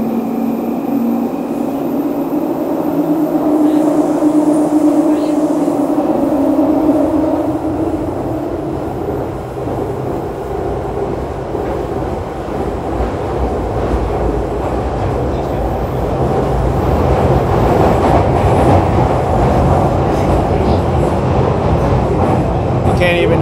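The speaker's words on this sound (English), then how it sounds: "The train's so loud." A London Underground train roars loudly at close range, a constant rumble with rattling wheels and rising high-pitched squeal, no voices.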